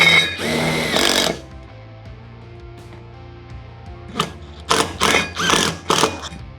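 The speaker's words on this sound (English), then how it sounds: "nut driver with a 5/16 inch driver and our self-tapping bits" A power nut driver with a 5/16 inch driver bit runs self-tapping screws into a mounting post: two loud whirring bursts, one short then a stuttering series of rattling pulses, quiet pauses between.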